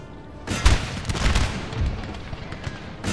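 Musket volleys in Napoleon Total War, a ragged crackle of shots rolling out in quick uneven bursts after a brief lull, fairly loud and close, with no talk over it.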